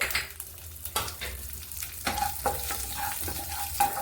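Fennel, cumin and four slit green chilies fry in hot oil while a spoon stirs them. The sizzle is close and steady, broken by repeated scraping and clinking strokes against the pan, with no talking.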